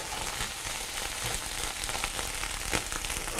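Food being scrambled in a hot pan sizzles with a steady, close crackle, with faint stirring scrapes and no voices.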